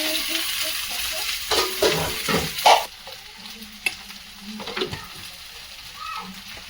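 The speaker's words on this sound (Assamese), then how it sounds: "এইফালে ভাজি আছে ভেন্দি, সেইফালে মাছ ভাজি হ'লে আৰু আমাৰ খানা ৰেডি।" Okra and small fish fry in pans, with a sizzling hiss, scraping stirs and clattering of utensils, bursts of busy kitchen noise that settle into a softer sizzle.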